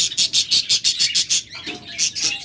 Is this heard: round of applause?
no